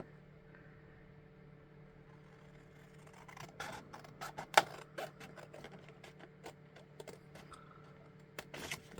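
Scissors snipping through card panels for a concertina pop-up wave card, a series of quiet, sharp clicks and cuts at an irregular pace, close up over a faint steady hum.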